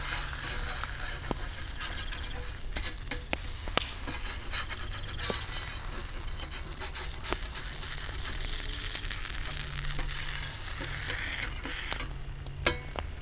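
Tortillas dipped in consommé frying for quesabirria tacos, a steady close sizzle with occasional utensil clinks and scrapes, one sharper clink near the end, no talking.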